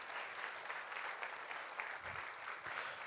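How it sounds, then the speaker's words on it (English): Applause at a dinner and dance gala, an even wash of many hands clapping at a steady moderate level from a crowd. "I think he needs a round of applause, ladies and gentlemen,"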